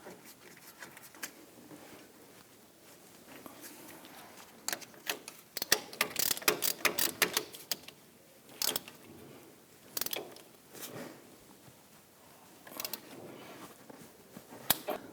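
A ratchet works on the caliper bracket bolts of a 2006-2010 Hummer H3 during a front CV axle job, with bursts of quick metallic clicks separated by quiet pauses and a few isolated knocks, close and fairly faint.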